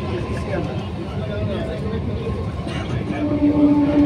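Steady low rumble of a moving local train heard from inside the carriage, continuous and moderately loud, with faint background chatter.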